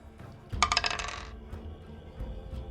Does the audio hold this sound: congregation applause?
no